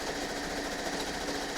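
A sewing machine runs steadily, stitching a quarter-inch seam on quilt fabric with a quarter-inch seam guide foot. The motor hums close up, and the needle chatters quickly and evenly without a break.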